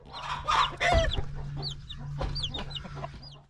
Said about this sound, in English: We're gonna grab both these chicks.